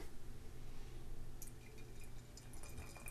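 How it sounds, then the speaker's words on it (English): Oatmeal Raisin Cookie brown ale from Cigar City Brewing is poured into a glass, a faint, steady liquid trickle with light dripping and fizz over a low background hum. "let's pop the top on this bad boy and get it into the glass"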